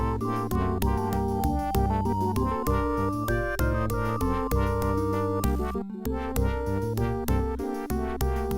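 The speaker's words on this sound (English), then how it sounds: "You wouldn't expect a game looking like this to have music sound like this." MS-DOS video game music, a busy continuous synthesized tune with fast rhythmic notes and a steady beat, loud and alone, with a brief dropout near the end.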